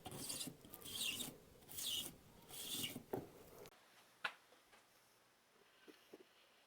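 Fret edges filed smooth on a Telecaster fretboard: four rhythmic rasping strokes close up, then softer, sparse scrapes and taps.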